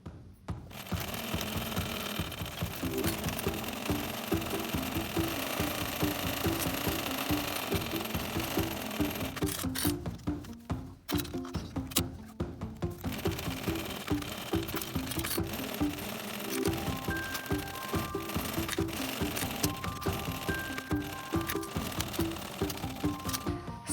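A sewing machine bastes purse panels with a narrow seam allowance, running in long, fast, rhythmic stitching bursts with one short pause, loud and close.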